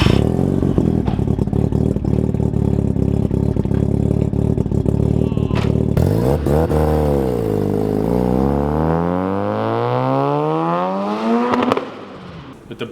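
A Mazda RX-7 FD with a bridgeport rotary engine runs loud and close, a choppy, crackling idle that blips and then revs up with a sweeping rise before cutting off.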